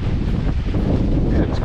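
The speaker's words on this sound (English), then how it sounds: "Yeah, it's windy as heck." Strong wind buffets an outdoor microphone in a steady roar that stays loud and dense through the whole moment, with no clear voice over it.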